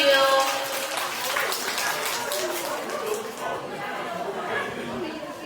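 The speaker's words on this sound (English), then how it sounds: "Can you guys give a big applause to" Applause rises from the audience at an English debate competition, clapping blended with chatter and voices from the crowd, moderately loud and steady before tapering slightly.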